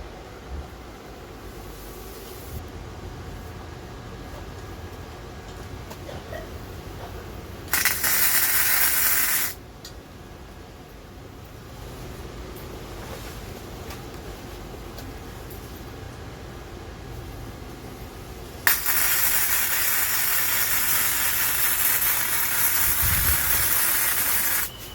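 A MIG welder laying beads on a 1993 Ford EB Falcon subframe, two bursts of loud steady crackling hiss, one brief and one longer, separated by quieter background noise.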